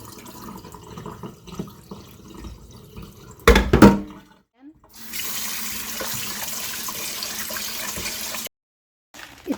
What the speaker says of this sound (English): So I'm using basmati rice. Just wash this twice or 3 times.